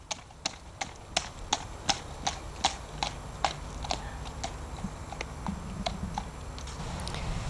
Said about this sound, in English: Here the horse is being ridden by one of my staff.